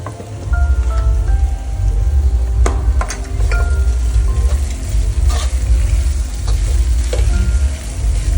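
Poha and sugar are mixed in a frying pan over a steady close sizzle, with scattered scraping clicks from the spoon and pan.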